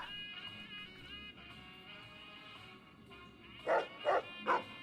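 A dog in the video game Fallout: New Vegas barks three times in quick succession toward the end, loud and close, after a quieter stretch of game ambience.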